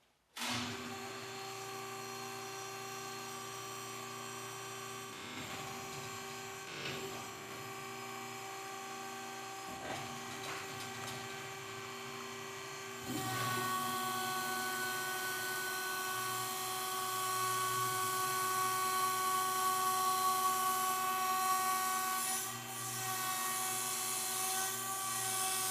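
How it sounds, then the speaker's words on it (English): Hydraulic pump on a Palmer portable chute trailer runs as the stabilizer arms lower, a steady loud whining drone with harmonic tones that steps up in level partway through and holds continuously. "We'll start out and we'll put the stabilizer arms down"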